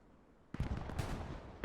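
Artillery fire in a real-time strategy battle: a cluster of dull, booming blasts and rumbling impacts bursting in after a quiet moment, rolling on for about a second before another sharp hit.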